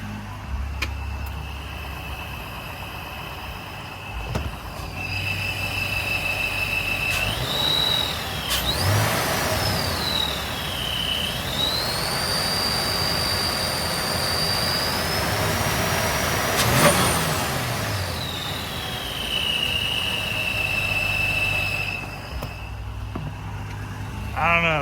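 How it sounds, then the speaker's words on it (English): A car engine fitted with a ProCharger supercharger idles, then is revved for about ten seconds, bringing up a rising, sustained supercharger whine over the engine roar before settling back down, heard up close. "I'll wrap the engine up a little bit."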